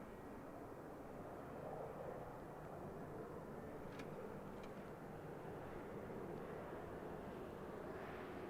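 An aircraft lands at Christchurch Airport in New Zealand, its engine noise a steady, broad roar from start to finish, fairly distant and even in level, with no talk over it.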